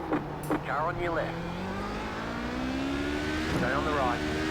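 An iRacing endurance race car, with a prototype class machine nearby at Spa, drones steadily as another car's engine note climbs alongside. The whine rises gradually across the clip, and a voice talks briefly over it.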